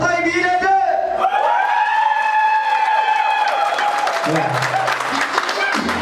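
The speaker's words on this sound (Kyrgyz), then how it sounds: "Азыр биринчи кол чабасыздар" An audience claps and cheers during a dance contest at a Kyrgyz family celebration, with steady, dense applause mixed with tuneful music and voices throughout.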